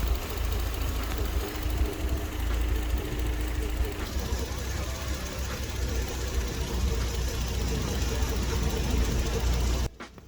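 A Toyota Soarer with a fuel pump defect idles outdoors, a steady low engine hum running throughout at close range, fairly loud and even, cutting off abruptly near the end.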